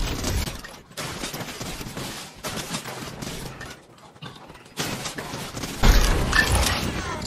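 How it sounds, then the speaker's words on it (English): Rapid bursts of gunfire in the video game Fortnite Chapter 5 Season 1, repeated shots in uneven clusters with a louder, denser volley near the end, heard alone without talk. "just pick up the gun. You can shoot them all to get more XP."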